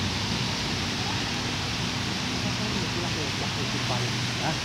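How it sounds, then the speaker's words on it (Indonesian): Heavy rain falls outdoors near a train station, a dense steady roar close to the microphone, with faint voices mumbling underneath. "hujannya lebat banget nih"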